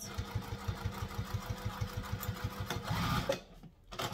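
A sewing machine runs in quick, even stitching bursts while sewing a sling bag, close and rhythmic for a few seconds before it slows and stops, leaving a brief hush.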